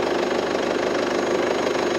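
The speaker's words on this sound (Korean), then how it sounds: "엔진룸 소리 너무 좋고" An Infiniti Q50 2.2 engine idles steadily, heard up close in the open engine bay, a smooth continuous hum with a faint rhythmic ticking underneath and no voices.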